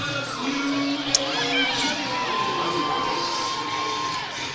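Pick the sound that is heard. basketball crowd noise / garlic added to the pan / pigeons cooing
basketball crowd noise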